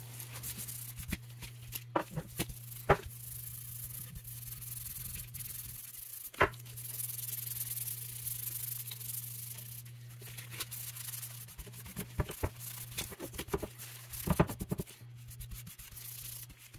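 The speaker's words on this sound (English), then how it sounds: "you can just brush this out pretty easily" Wire brush scrubbing rust and carbon from the exposed metal of a 1918 Carcano rifle, a steady close scratchy rubbing with a few sharper scrapes along the way and no talk.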